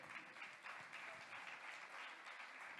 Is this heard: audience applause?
yes